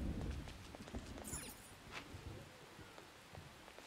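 Rain falls steadily in the video game Persona 5 Royal, a soft, dense patter that stays faint and continuous, with a few brief higher ticks and no voices.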